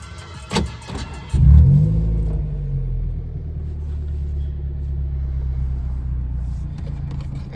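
A Maruti Suzuki Zen with a custom exhaust cranks briefly and starts, then settles into a deep steady idle rumble, close and loud.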